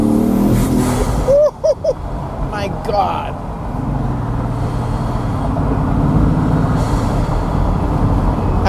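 A Bugatti with a 16-cylinder, four-turbo engine accelerates hard, its deep roar rising and surging loudly from inside the car, while a passenger's brief exclamation cuts through.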